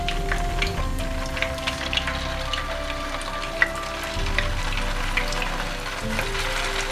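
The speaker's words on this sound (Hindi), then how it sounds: "ऑयल हमारा गर्म हो गया है। अब हम इसमें कबाब डाल देते हैं।" Lentil kebabs frying in hot oil in a pan give a steady, close sizzle with scattered crackles and pops, with no speech.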